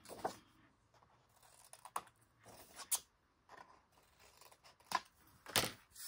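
Paper glue tabs are trimmed at an angle with scissors for a Nutcracker-themed scrapbook album, giving a few quiet, separate snips and paper rustles with pauses between them.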